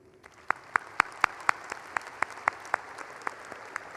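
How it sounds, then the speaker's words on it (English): Scattered claps at a university graduate school commencement ceremony, a thin round of sharp, evenly spaced hand claps from a few people, moderately loud in a quiet hall. "Let's give a final round of applause to our award winners"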